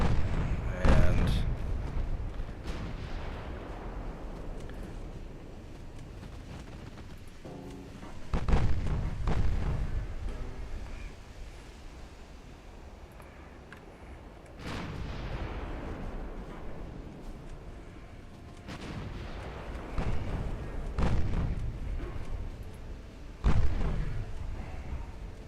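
Warship main and secondary guns fire in the naval video game Ultimate Admiral Dreadnoughts, loud booming salvos every few seconds with long rumbling decays, under a continuous battle bed.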